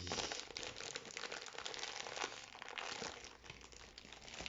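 Plastic wrapping on a Topps WWE Slam Attax Reloaded card binder crinkles steadily and continuously as it is opened, a close, dense rustle with no voice.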